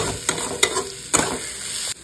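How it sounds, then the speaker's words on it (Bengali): Masoor lentils stirred and fried in a pan, with several quick scraping strokes of a spoon over a steady close sizzle and no voices. "ডাল ভাজা হয়ে গেছে, এবার জল দিয়ে দেবো।"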